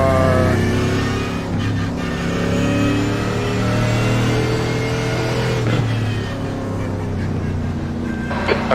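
A race car engine drones continuously in the iRacing game at Canadian Tire Motorsports Park, its tone holding steady and loud, then dipping and rising as the car works through corners.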